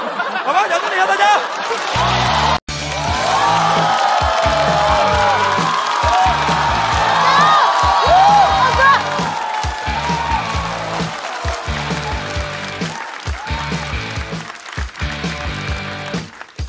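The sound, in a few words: audience applause at stand-up comedy show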